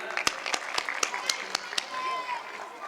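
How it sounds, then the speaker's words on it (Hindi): Audience clapping at the closing ceremony of a Sankranti village fair in Berasia, a handful of sharp, evenly spaced claps ringing out over a murmuring crowd and voices. "जोरदार तालियां।"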